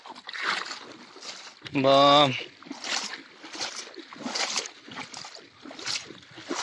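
Water sloshes and splashes around legs as someone wades knee-deep through floodwater on meadows by the Dnipro after rain, with a short loud tonal burst midway and people talking throughout.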